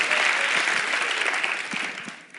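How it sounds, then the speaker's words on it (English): Audience applause rises as a dense, steady wash of clapping from a large crowd, holding fairly loud before thinning and fading toward the end. "Yeah, clap for them, man."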